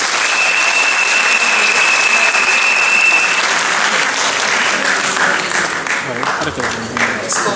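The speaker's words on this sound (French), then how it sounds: "Est-ce qu'on peut applaudir encore très très fort?" A large audience applauds loudly and steadily at a women workers' forum in a grand theatre, dense continuous clapping filling the hall with a voice talking over it.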